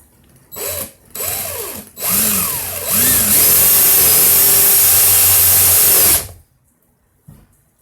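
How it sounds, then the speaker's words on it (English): A power drill spins clockwise at high speed in several short bursts that rise and fall in pitch, then runs loud and steady for a few seconds before stopping, while winding 40-gauge wire coils. "Put the fast drill in the clockwise rotation."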